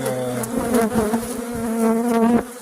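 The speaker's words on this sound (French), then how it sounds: "vous voulez voir des abeilles? Bah là, il y en a." Honeybees buzz loudly and close around a hive frame, a dense droning hum with shifting pitches as many insects move around nearby.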